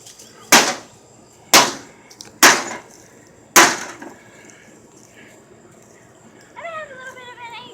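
An ordinary hammer smashes into a microwave in four sharp, loud impacts, each a cracking bang with a brief rattling decay, followed by a person speaking briefly at the end.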